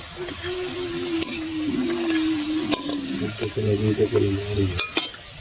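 Kuli pitha made from parboiled rice flour sizzles steadily in hot oil, a close, continuous frying hiss with occasional stirring clicks and scrapes.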